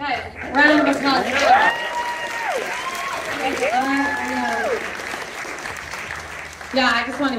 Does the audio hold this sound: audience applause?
yes